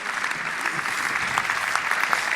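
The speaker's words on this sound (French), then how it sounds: "Donc applaudissez-les." Applause for the Fudokan dojo of Alès as they settle in at a 2024–2025 season presentation, a steady, dense clapping from an audience that stays even and fairly close throughout.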